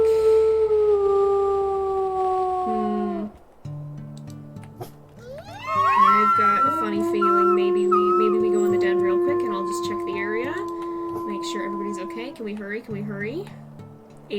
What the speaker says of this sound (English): Let's make sure that we howl and play with these guys a bit.